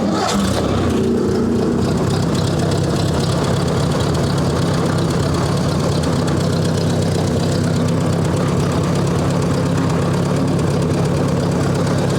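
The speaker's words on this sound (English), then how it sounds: "let's test out, see how good this tractor is" A loud, rough engine of a 1958 Ford 851 tractor drones continuously up close under the load of a heavy pallet of sand, a heavy chugging rumble that holds steady without a break.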